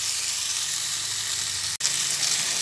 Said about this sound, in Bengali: ভেজে নিতে নিতে